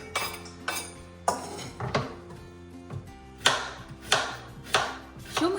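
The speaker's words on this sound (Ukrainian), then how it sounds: "Нарізаємо на пів кільця." A knife chops repeatedly against a cutting board, about a dozen sharp crisp strokes at an uneven pace, close by, slicing a large onion into half rings.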